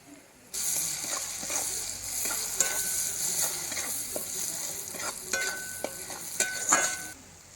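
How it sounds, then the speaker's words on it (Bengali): Chopped tomatoes sizzle steadily in a pan for a winter river fish (chanda) curry, with a continuous frying hiss broken by occasional scraping clicks of a spatula. No one speaks. "কুচানো টমেটো দিয়ে দিলাম।"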